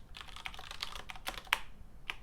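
Rapid keystrokes on a computer keyboard, a close, steady run of irregular clicks and taps lasting a couple of seconds with no voices.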